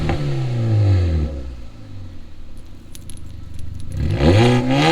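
A modified Hyundai Verna fitted with a Valvetronic remote-controlled exhaust revs hard, climbs and falls, settles into a rattly idle, then surges again, loud and close.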